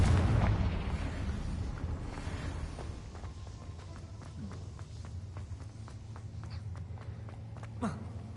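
A Confringo blasting spell explodes in the video game Hogwarts Legacy, opening with a loud, close, low boom that decays into a long rumbling tail. Soft footsteps and faint thuds follow; no speech.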